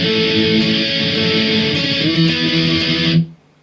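A loud distorted electric guitar plays a song intro, a dense sustained chordal wash that cuts off abruptly near the end.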